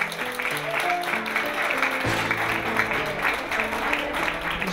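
Audience applause at a Dutch language competition final, greeting the winner of the Gouden Talenknobbel at the DRONGO festival; steady clapping runs throughout over tonal music, fairly close and even.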